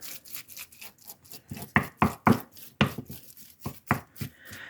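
Squishing and slapping of a pound of raw 93% lean hamburger being broken up by hand in a bowl, a run of soft, close, irregular wet thumps with no talking.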